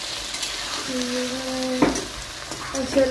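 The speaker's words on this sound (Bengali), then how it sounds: "এই যে এখন পেঁয়াজ ভাজা চলছে।" Onions frying in a pan while a meal is prepared, a steady close sizzle with stirring scrapes and a brief louder clatter of the spatula, no one talking.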